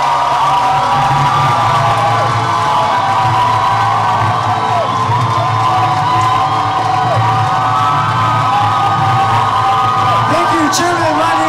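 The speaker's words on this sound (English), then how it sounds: "Let's give another warm round of applause" A large audience at a South-East Asia peace forum cheers, whoops and claps continuously for a speaker, a loud sustained crowd roar with raised voices and shouts layered over the applause throughout.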